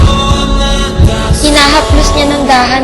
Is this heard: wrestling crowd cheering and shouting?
no